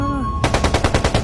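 A rapid burst of machine gun fire, about a dozen sharp shots in quick even succession, loud and close after a brief low hum.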